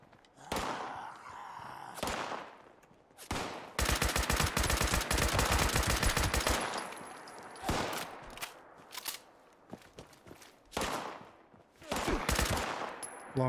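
Video game gunfire in bursts of rapid automatic shots, loud and close, with a long sustained volley in the middle and shorter clusters scattered before and after, separated by brief quiet gaps.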